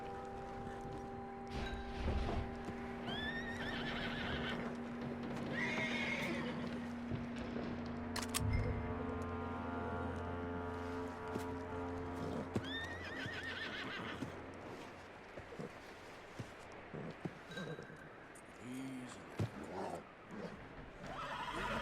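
A horse in Red Dead Redemption 2 whinnies and snorts several times over clip-clopping hooves and ambient game sounds, fairly close and moderately loud.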